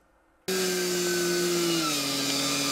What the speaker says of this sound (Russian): Морозный воздух за десятки километров разносит звуки бензопил